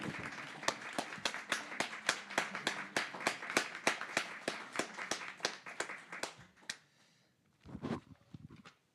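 Audience at a colloquium applauding, a brisk run of sharp, fairly close claps that thins out after about six seconds, followed by a brief murmur and shuffle.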